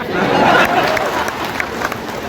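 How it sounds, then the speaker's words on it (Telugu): An audience at an information session claps and cheers, a loud burst of mixed applause and crowd noise that tapers slightly, with voices mingled in. "చప్పట్లు కొడుతురు"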